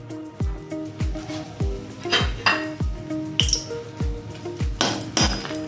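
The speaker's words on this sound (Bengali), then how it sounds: "3টে শুকনো লঙ্কা ভালো করে ভেজে নেব।" Three dried red chillies fry in hot oil for a greens dish, with a sizzle underneath regular, evenly spaced metallic knocks and scrapes of a spatula against the pan, close and fairly loud.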